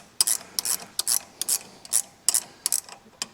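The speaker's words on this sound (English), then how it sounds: "get a little spanner on top to grab it so you can tighten it up properly" A spanner tightening a bolt on a Suzuki Jimny Gen 4 suspension during an 80mm lift install, giving a series of close, sharp ratcheting clicks in short irregular bursts with quiet gaps between.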